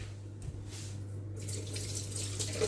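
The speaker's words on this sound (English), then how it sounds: "let's drain the water from our bread" Water running and trickling as it drains from bread soaked for an Irish bread pudding, a steady splashing flow at a sink that grows slightly louder toward the end.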